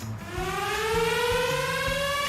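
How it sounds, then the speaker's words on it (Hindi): A siren wails in a rising sweep that climbs in pitch and then holds, loud and close, over a low rhythmic thumping beneath it. "ओह नो वे, क्या ये सायरन मेरे लिए बज रहा है?"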